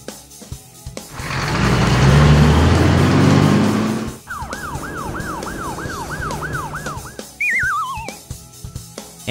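An ambulance siren wails loudly and close, starting after a burst of engine roar, rising and falling in a quick repeated yelp, then sweeping into a slower descending wail before cutting off.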